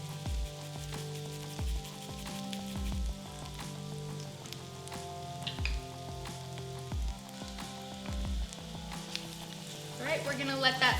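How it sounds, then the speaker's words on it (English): Shallots and grated garlic sautéing in a pan, a steady crackling sizzle under background music, with utensil clinks toward the end. "we're gonna let that saute until the shallots are softened"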